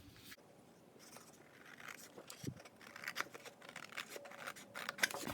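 Scissors snip paper for a scrapbook layout, a faint close series of crisp irregular cuts with soft scraping between them and no talking.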